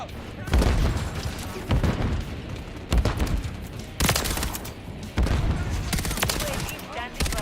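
Loud concussive blasts and bursts of gunfire repeat about every second and a half in a first-person shooter video game, with stun grenades going off amid the shooting.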